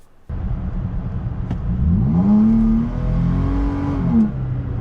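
A 2017 third-generation Toyota Tacoma TRD Off-Road with an Ovtune engine tune revs under throttle, its close, loud engine drone rising and swelling in pitch before easing back slightly.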